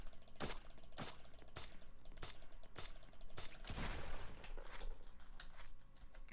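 Gunfire in the Roblox game Da Hood: a run of sharp, regularly spaced shots, about ten over six seconds, close and fairly loud, with a denser burst of blasts partway through.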